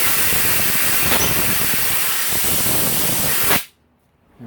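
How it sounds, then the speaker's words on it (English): Pressurized spray blasting dirt and old lube out of a motorcycle throttle tube, a loud steady hiss lasting several seconds before cutting off abruptly into near silence. "Spray all the dirt out of here."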